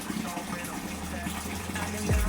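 Water gushes from a coin-operated water vending machine into a container, a close rushing flow that swells near the end, with a voice talking over it.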